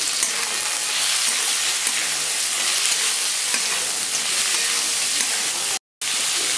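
Cashew nuts frying in a pan for butter paneer masala: a steady, loud, bright sizzle with faint stirring, broken by one very short silent gap near the end.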